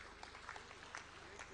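A crowd at a political housing-scheme event in Vidisha applauds, a faint, steady wash of distant clapping with a few sharper claps standing out, under a murmur of voices.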